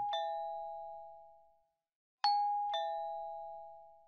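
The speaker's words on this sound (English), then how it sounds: "the doorbell keeps ringing" An electronic doorbell chimes clearly in a quiet room: one ring that rings out and decays, then a pause, then two more quick strikes that sustain and fade.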